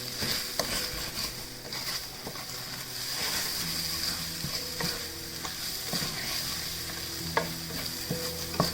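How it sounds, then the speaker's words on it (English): Chicken fried rice fries in a pan with a continuous close sizzle while a utensil stirs and scrapes it, giving repeated clicks and knocks over several seconds. "I'm gonna basically just lightly fry this, all of it, so that the rice grab all the flavors of everything."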